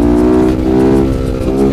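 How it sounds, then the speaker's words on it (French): Motorcycle engine held at high, steady revs while the rider pulls a wheelie on an open straight road; the loud, close engine note drones continuously with slight dips, no voices present. "je vais faire un petit wheeling"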